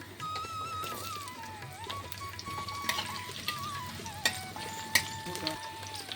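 Vegetables for khichuri, including potato, radish, yam and taro, frying together in a pan: a steady soft sizzle with stirring scrapes and clinks, fairly quiet and close.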